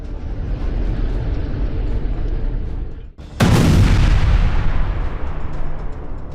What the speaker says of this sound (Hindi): यह वीडियो इस बात का सबूत है कि गाजा इस वक्त ताबड़तोड़ धमाकों से दहल रहा है